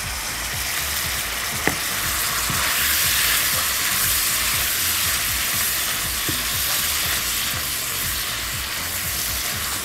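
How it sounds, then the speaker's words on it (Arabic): Sausage stir-fried in a pan over high heat gives a steady, loud sizzle with occasional light scrapes of stirring, and nobody speaks. "دايما يعني الحاجات اللي بشوحها او اللي هي الستير فراي دايما بتبقى على نار عاليه"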